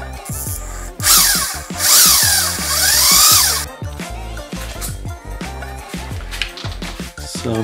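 A power drill cuts a countersink into clamped wood for truck bed kitchen drawers, with a loud sustained high-pitched bite early, then stuttering bursts and clicks of the motor, close by with no talking.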